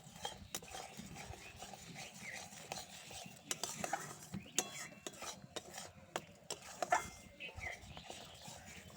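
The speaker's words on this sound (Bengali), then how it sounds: "এবার সমস্ত কিছু একসাথে খুব ভালো করে কষিয়ে নেব" Spice paste with Kashmiri chilli and cashew being stir-fried makes irregular scraping and clinking of a utensil against the pan, with a soft frying hiss beneath and faint voices in the background.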